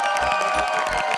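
Brief burst of a studio audience on a Vietnamese TV show applauding and cheering, a dense continuous wash of clapping and voices filling the whole moment.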